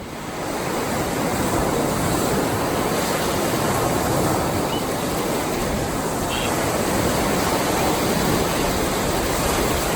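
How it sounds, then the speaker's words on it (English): Surf rolls in steadily on a Lake Michigan beach at Muskegon State Park, a dense continuous wash of breaking waves with some wind across the microphone and no pauses. "Decent waves on Lake Michigan today."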